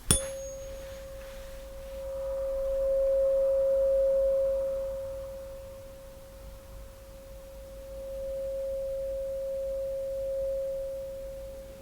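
A steady pure tone from a hearing test plays for about twelve seconds over a faint hiss, swelling and softening in level but never stopping.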